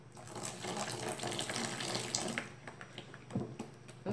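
Water trickles and splashes steadily into a container as it is poured slowly while mixing homemade salt detergent, a continuous running-liquid sound with a few brief bumps near the end.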